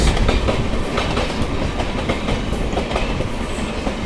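A Tejas express train passes close by on Indian Railways track near Delhi, with a loud, continuous rumble and a rapid clickety-clack of wheels over rail joints throughout, and no voices.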